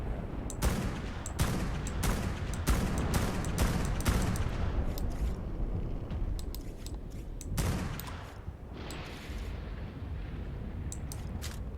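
Rapid gunfire aimed at a flying Hatzegopteryx in the video game ARK: Survival Evolved, dense volleys of repeated shots for most of the stretch, thinning into scattered bursts near the end.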